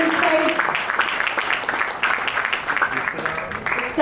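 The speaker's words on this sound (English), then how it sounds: "Can we give them a big round of applause?" Audience applause at a Westcon 2025 event for a group of girls from Standing Side, a dense, steady wash of clapping with a few voices mixed in.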